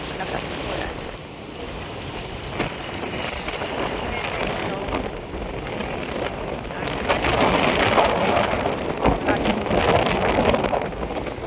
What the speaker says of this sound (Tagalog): yun naman yung paglakas ng ulan